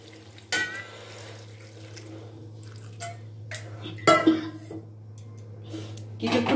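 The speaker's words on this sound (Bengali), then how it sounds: "এবার কিছুটা পরিমাণে জল দিয়ে দিচ্ছি এটা সেদ্ধ হওয়ার জন্য।" Water is poured into a pan of bottle gourd greens being cooked with bori, giving a short splash and soft trickling and dripping over a steady low hum, with brief clatters near the end.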